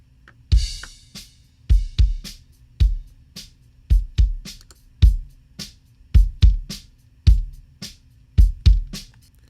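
Kick drum given heavy parallel saturation and compression, booming thumps with lengthened tails in a steady pattern alongside sparse cymbal ticks, played alone without talk.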